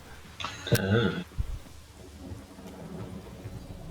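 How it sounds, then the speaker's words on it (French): A violent thunderstorm in The Witcher video game: a sharp crack and rumble of thunder over steady pouring rain, with the rain hiss continuing after the strike fades. "Violente tempête de merde en fait."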